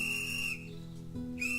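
A mine warning whistle sounds before blasting, a steady shrill tone that breaks off briefly in the middle and then resumes, moderately loud over a low background hum.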